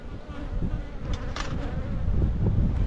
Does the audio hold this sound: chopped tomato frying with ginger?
no